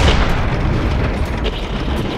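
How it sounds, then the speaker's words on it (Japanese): Tank cannon fire in the PC tank game Panzer Knights: a loud, sustained booming blast with rumbling low end filling the whole moment, no voices over it. "発砲。"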